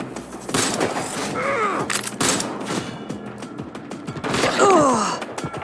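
Gunfire rattles in bursts in the Watch Dogs: Legion video game, mixed with gasping, groaning vocal sounds and strained voices over the shooting.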